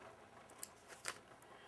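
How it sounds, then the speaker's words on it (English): Small scissors make a few quiet, crisp snips while cutting applique fabric. The snips are spaced apart and heard against a soft, near-silent background. "Take my little scissors, cut this"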